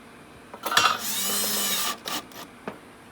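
A stainless steel self-tapping screw being driven into a rusty grill: a single sustained grinding whine of about a second, preceded and followed by short clicks and knocks, close and moderately loud.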